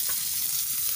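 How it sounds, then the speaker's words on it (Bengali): Onion and chopped green chili frying in a pan, a steady close sizzle with a hissing crackle that holds evenly for the whole second, no voices over it. "আর এখন দিয়ে দেবো পেঁয়াজ কাঁচা লঙ্কা কুচি।"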